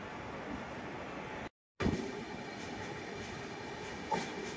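The Deccan Queen Express between Pune and Mumbai runs at speed, a steady loud rumble and roar of wheels and carriages heard from inside, briefly cut out for a moment, then continuing with a faint clatter.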